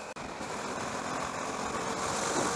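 A 2013 KTM Duke 390 motorcycle on a test ride, its engine giving a steady, throaty running drone that builds slightly toward the end after a brief dropout at the start, with no talking.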